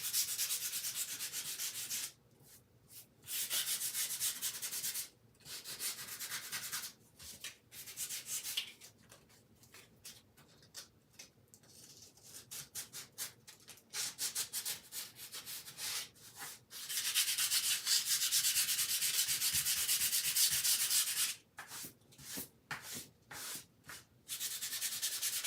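Something is rubbed briskly over a surface to take off green colour, a close, rasping scrub in repeated strokes of a few seconds each with short pauses between, and no talking.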